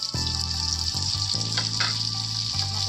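Chopped tomato hits hot oil in a pan for a cauliflower and new potato curry, giving a steady bright sizzle that runs throughout beneath background music.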